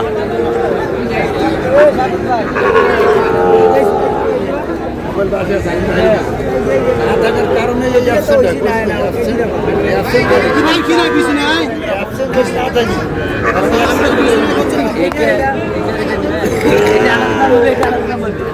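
Sahiwal cattle lowing at a busy livestock market in Shariatpur, heard intermittently beneath constant loud crowd chatter and nearby talking.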